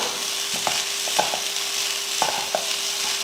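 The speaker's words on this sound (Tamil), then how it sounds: "இப்போ அடுப்பை சிம்மில் வச்சுட்டு கலந்துக்கலாம்" Beetroot egg rice is stirred in a pan over a low flame, with scattered spoon scrapes and taps over a steady, fairly loud sizzle.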